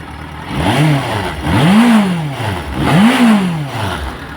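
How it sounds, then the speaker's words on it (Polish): A Yamaha FZ6 S Fazer 600 motorcycle engine, with 37,000 km on it, revs up and falls back three times in a steady rhythm, rising and sinking in pitch, loud and close with no talk. "Oto serduszko, silnik."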